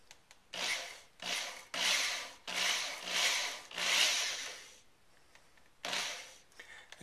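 A hand drill bores a truss rod access hole into a wooden guitar headstock in short, rasping bursts of about a second each, close and moderately quiet, with brief pauses between them.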